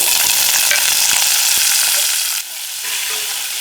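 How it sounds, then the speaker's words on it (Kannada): Bay leaf and half an onion frying in a pan of hot oil for spinach pulao, a loud steady sizzle with a brief dip partway through, no talk. "ಪಲಾವ್ ಎಲೆ, ಸ್ವಲ್ಪ ಇದನ್ನ ಹುರ್ಕೊಳ್ಳೋಣ. ಆಮೇಲೆ 1 ಅರ್ಧ ಈರುಳ್ಳಿ ಹಾಕ್ತಾ ಇದ್ದೀನಿ."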